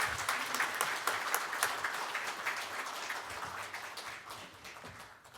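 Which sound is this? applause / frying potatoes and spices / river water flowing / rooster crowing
applause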